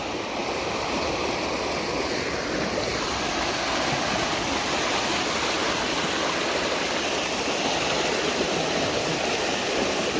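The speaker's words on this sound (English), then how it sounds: "There's a little bit of water running over there." A stream near Asan, South Korea runs over rocks, a continuous loud rushing and babbling wash close by, steady without pause and with no voices.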